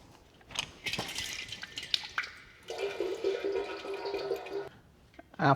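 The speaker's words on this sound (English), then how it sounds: "The one in the front might still drip a little bit." Engine oil draining and dripping from the drain on a Ferrari 458 during an oil change: a close, fairly faint liquid stream that splashes and trickles in uneven bursts, then briefly stops.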